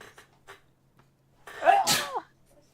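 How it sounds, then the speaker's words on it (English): A single loud, close sneeze bursts into a microphone near the end, preceded by a few faint breaths and small sounds in an otherwise quiet room. "No, me sneezing piqued my mic."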